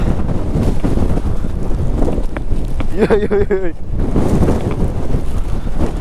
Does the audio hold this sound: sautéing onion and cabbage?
no